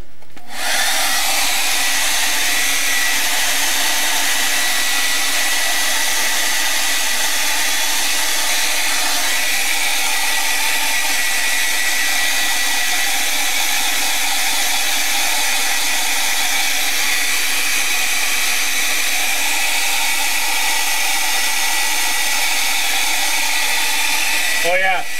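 A hair dryer drying acrylic paint runs loud and close without pause, a steady rushing whir of blown air that fills the whole stretch.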